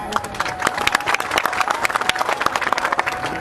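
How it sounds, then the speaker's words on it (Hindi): Audience applauding at a political speech, a dense burst of many hands clapping loudly and continuously, with scattered shouts from the crowd. "ये ताली बजाने का विषय नहीं है।"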